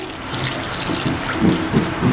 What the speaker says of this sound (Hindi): एक बर्तन में एक कप पानी डालेंगे